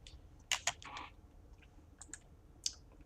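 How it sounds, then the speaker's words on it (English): Soft, sparse keyboard typing while searching in Tekkit Minecraft: a few quick key clicks in short bursts, fairly close but quiet, over a low background hum with no talking. "we go down here and we type in divining"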